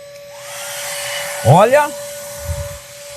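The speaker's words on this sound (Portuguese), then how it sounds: "Vamos ligar o secador então." A hair dryer whirs up alongside a running vacuum cleaner powered from a Growatt SPF5000ES hybrid off-grid inverter, a steady motor drone with a rising whine as the dryer starts, and a brief spoken word.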